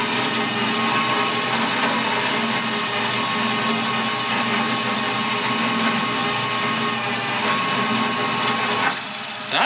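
A core drill runs at reduced RPM with a steady, loud motor whine that holds evenly and then cuts out near the end.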